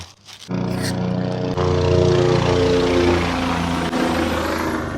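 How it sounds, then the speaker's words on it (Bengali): A helicopter passes overhead on the Kedarnath pilgrimage route, its loud, steady rotor and engine drone filling the air after a brief quieter start and holding constant throughout. "মাথার ওপর দিয়ে বারবার হেলিকপ্টার যাচ্ছে, আর এত শব্দ"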